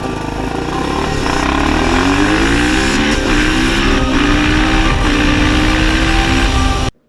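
A tuned KTM 300 XC-W TPI two-stroke supermoto with a Power Commander runs loud and close, holding a steady, buzzing engine note with gradual pitch sweeps for about seven seconds before cutting off abruptly.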